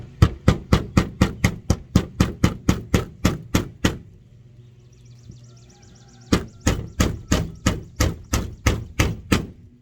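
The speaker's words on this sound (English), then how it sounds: "with these nails are so tiny, you really don't need to pre-drill holes, because we were afraid that the wood would split, but it actually just goes right in." Hammer tapping tiny nails into wood: a rapid run of sharp, evenly spaced strikes, then a pause of a couple of seconds with faint background sound, then another quick series of blows, loud and close.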